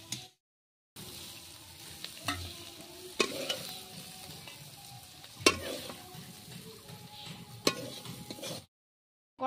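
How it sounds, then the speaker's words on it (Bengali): Ivy gourd (kundri) frying in oil in a wok with steady sizzling and periodic stirring scrapes and clinks, close and moderately loud, no talking. "দেখুন কুঁদরিটা ভালোভাবে কষানো হয়ে গেছে।"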